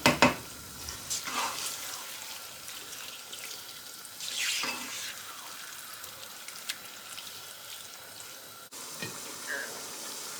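Chicken cooks in a pan over a high flame while making pasta, giving a soft continuous sizzle with occasional stirring scrapes and bursts, moderately close and faint.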